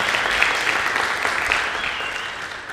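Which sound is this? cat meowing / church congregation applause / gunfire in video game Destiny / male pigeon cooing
church congregation applause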